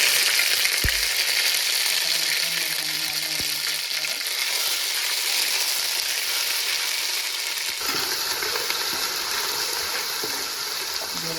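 Ginger, garlic and bay leaf fry in a pan of hot oil for a vegetable biryani, giving a steady, close sizzle that runs the whole time, with a few low clunks near the start.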